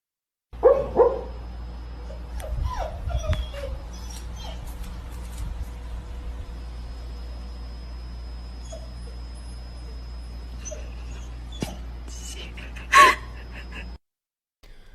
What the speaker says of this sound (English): Dog's having a nightmare